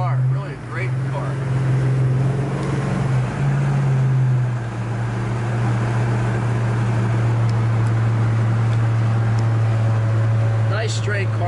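A 1963 Plymouth Fury engine drones steadily while driving down the road, a low continuous hum with road and wind noise that shifts pitch slightly as speed changes.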